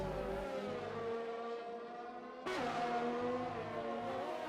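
A race car engine in a racing game whines steadily through its gears as it passes another car, with a sharp shift in pitch halfway through and a loud, close drone.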